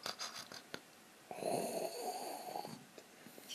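A person's voice imitates snoring with one drawn-out, raspy snore, fairly quiet and close, with no other talk.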